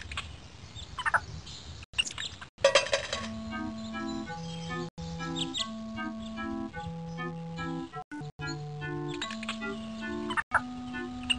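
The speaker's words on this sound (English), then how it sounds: "Could you play a lilting waltz for me, Bertie?" A lilting waltz plays in a video game, a bright music-box-like melody in steady triple rhythm over a repeating bass figure, with bird chirps scattered over it for the birds being fed.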